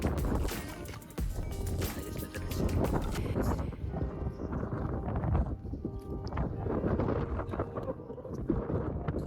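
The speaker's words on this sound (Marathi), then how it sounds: "खूपच वारा." Strong wind blasts into the microphone on a hilltop in Hampi at sunrise, producing loud, rumbling buffeting gusts that roar continuously and vary in strength.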